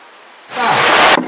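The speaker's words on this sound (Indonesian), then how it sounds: "Meski di bawah guyuran hujan dan TPS sempat tergenang air" Heavy rain pours down at an Indonesian polling station during a vote count, rising suddenly into a loud, dense, close wash of hiss that cuts off abruptly after about a second.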